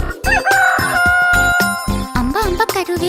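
A rooster's crow in a Kannada children's rhyme, a long drawn-out cock-a-doodle-doo over steady rhythmic backing music, loud and upfront.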